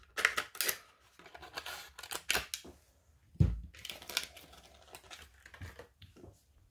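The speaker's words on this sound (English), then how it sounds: "as I open it with scissors" Sharp snips and crinkly plastic rustling as scissors cut open packaging up close, with a soft thump partway through.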